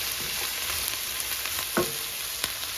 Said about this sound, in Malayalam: അപ്പോൾ അതിനെ നന്നായിട്ടൊന്ന് വഴറ്റിയെടുക്കാം.